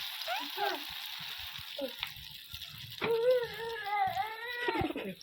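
Egg dropped into hot oil in a home kitchen pan, sizzling and frying steadily up close, with a cat meowing repeatedly over the crackle.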